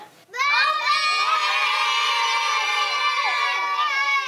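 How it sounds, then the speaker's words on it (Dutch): A crowd of children shout and cheer together in one loud, sustained burst that rises sharply and holds for several seconds before easing slightly at the end. "dan roepen we allemaal doei doei!"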